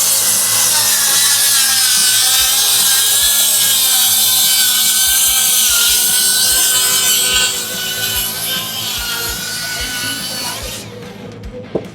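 A circular saw fitted with a new Diablo blade rips lengthwise through wood with a loud, steady whining cut that holds for several seconds, then eases off as the cut ends and the blade spins down.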